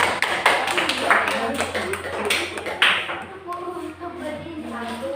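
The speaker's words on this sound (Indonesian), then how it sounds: "kita beri tepuk tangan untuk kelompok Rafflesia" Applause in a classroom for a student group, a burst of dense clapping that fades out after a few seconds, with voices talking through and after it.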